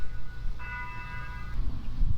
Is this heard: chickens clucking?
no